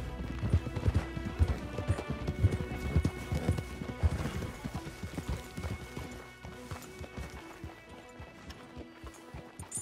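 Horse hooves clip-clop in a quick, uneven rhythm in the Red Dead Redemption 2 video game, loud at first and thinning out, with a faint whinny and background music.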